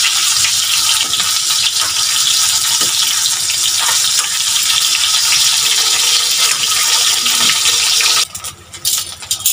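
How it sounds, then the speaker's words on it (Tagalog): Two pieces of lumpia shanghai frying in hot oil, giving a loud, steady broadband sizzle and crackle that runs unbroken for most of the stretch before easing off near the end. "Lagyan ko na ng 2 pirasong Shanghai para"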